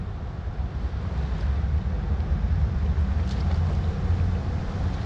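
A boat motors up a salmon river, its engine a steady low drone heard from a distance under wind noise, continuous with no talking.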